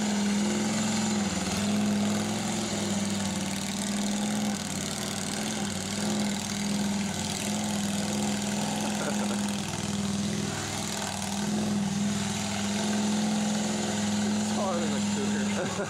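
A monster lawn mower engine idles with a steady, even drone and a constant low hum, while muffled voices talk in the background.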